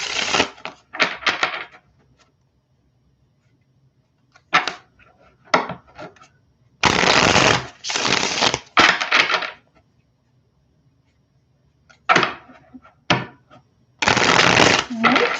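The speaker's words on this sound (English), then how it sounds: "I'll shuffle for another minute" A deck of pick-a-card tarot cards is shuffled close up in quick riffling bursts, separated by short silent pauses.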